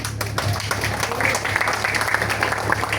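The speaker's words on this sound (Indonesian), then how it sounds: "Tepuk tangan dulu" Applause at an Islamic sermon gathering, a dense steady clatter of many hands clapping that holds evenly for a few seconds in a large reverberant space.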